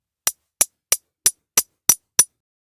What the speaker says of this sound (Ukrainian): Молодці, стукаю ложками.